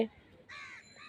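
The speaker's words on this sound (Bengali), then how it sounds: "আমাদের ছাদে এত কাক ডাকে" Crows cawing on a rooftop, a harsh call arriving about halfway through and running to the end, fairly clear against a quiet background.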